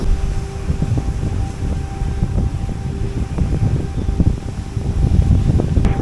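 Wind buffets the microphone by the sea in Tenerife, a loud, gusty low rumble rising and falling steadily throughout, with no voices.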